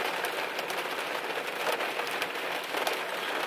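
Rain falls steadily on surfaces, a dense continuous hiss with scattered drop patters, even and fairly close, with no voices.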